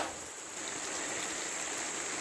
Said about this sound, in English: It is absolutely pouring.